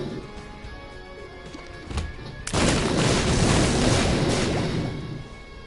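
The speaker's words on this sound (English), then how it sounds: "The guy is shitting bombs all over the place." Bomb blasts in The Binding of Isaac: a small pop, then a loud booming explosion whose rumble lingers for several seconds before fading over a faint game soundtrack.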